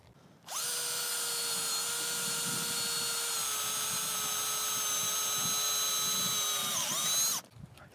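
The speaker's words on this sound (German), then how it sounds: "Wir bohren." A power drill whines at a steady high pitch for several seconds, then winds down and stops, boring holes while building a plant support.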